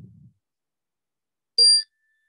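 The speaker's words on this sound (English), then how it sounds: "a bell chimes and the older woman enters and speaks," A single bright bell chime rings out clearly against silence, with a sharp strike and a short ringing tail that fades quickly.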